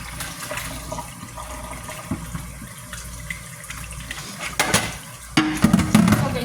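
Hot water pours steadily into a container nearby, a rushing liquid stream with clinks of dishes, growing louder toward the end.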